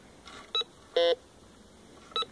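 A metal detector held over a zinc coin target gives three short electronic beep tones, spaced irregularly and heard clearly against a low, quiet hiss.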